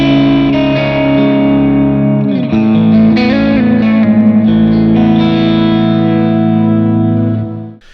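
An electric guitar played through a Line 6 HX Stomp rings out in sustained, shimmering chords with chorus and some dirt and reverb, loud and upfront with no talking, before fading out at the end.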